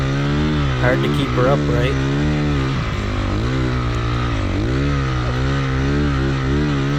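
A Honda CRF450R snowbike engine drones loud and close on a snowy trail, its pitch rising and falling with throttle, while a rider speaks briefly over it.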